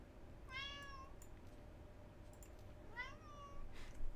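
A cat meows softly twice with a pause between, rising-and-falling calls heard faintly over low background noise.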